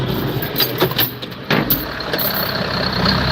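A John Deere 4255 tractor engine runs close by, a loud continuous diesel rumble with uneven knocks and bumps over a broad noisy wash.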